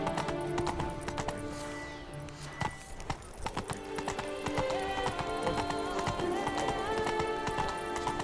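Horse hooves in The Witcher 3: Blood and Wine clip-clop in a steady galloping rhythm, close and fairly loud over music, with a brief whinny along the way.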